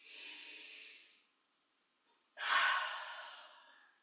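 Two slow, audible breaths during yoga practice, a long airy exhale followed by a pause and then a stronger breath that fades out, close and alone with no talk.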